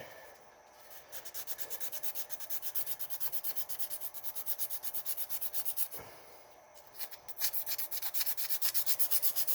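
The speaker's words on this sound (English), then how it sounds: "Just some 600 grit." Sanding rough edges of a Massey Ferguson GC2310 front hub assembly part with 600 grit sandpaper, close rhythmic back-and-forth rasping strokes in two bursts with a short pause between, no talk.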